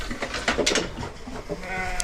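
A yearling sheep bleats repeatedly in a working pen and alleyway system, the calls close, loud and wavering over a steady background of livestock handling noise.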